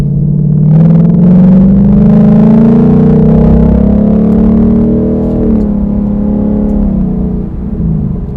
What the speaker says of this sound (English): You hear those downshifts?